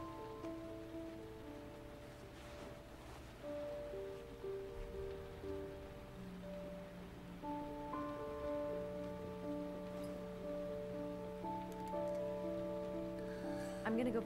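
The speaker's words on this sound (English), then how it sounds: "It's raining!" Steady rain in the video game Heavy Rain makes a continuous soft hiss beneath a sustained, slowly shifting musical score.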